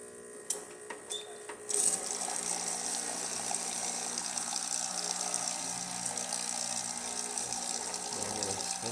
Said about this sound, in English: let's test the hot water.